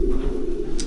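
Pigeons in a breeding loft give a short, steady low coo, close and continuous, with a brief brighter rustle near the end.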